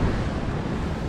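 Atlantic Ocean surf roars as a dense, continuous wash of breaking waves with wind buffeting the microphone, close and loud.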